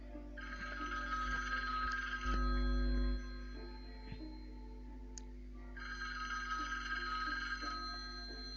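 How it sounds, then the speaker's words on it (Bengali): A telephone bell rings in bursts in a Bengali suspense audio drama, two clear ringing spells separated by a pause, with a steady low hum underneath and no talk. "ঠিক এই সময় টেলিফোন বেজে"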